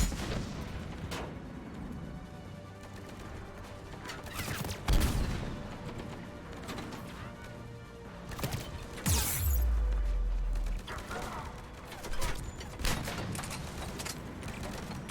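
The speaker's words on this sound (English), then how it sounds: "Oh, another grenade." Grenade explosions in Mass Effect 3, heavy booms around the fifth and ninth seconds with deep rumbling tails, mixed with scattered gunfire and mechanical clatter in a loud game firefight.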